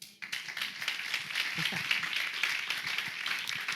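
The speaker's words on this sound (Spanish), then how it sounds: "¿Cuánto dan un aplauso al Señor?" A church congregation claps in sustained applause during a Spanish-language sermon, a busy wash of hand claps with some voices mixed in.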